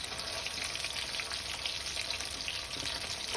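Bitter gourd (kakarakaya) frying in a pan, a close, steady crackling sizzle of oil with fine popping throughout.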